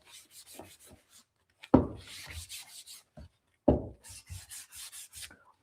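A high-gloss thrifted item is scuffed by hand with 220-grit sandpaper, giving rhythmic back-and-forth rasping strokes in short bursts, close and clear, with two louder strokes standing out between quieter passes.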